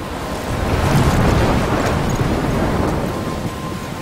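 A thunderstorm rages in the video game Life is Strange, heavy wind and rain roaring in a loud, dense wash with low rumbling thunder underneath, steady throughout.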